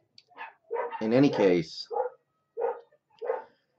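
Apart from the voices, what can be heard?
dog barking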